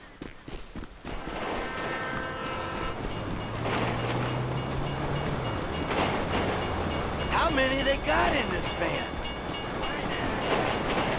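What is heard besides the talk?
train passing by, from the video game GTA 5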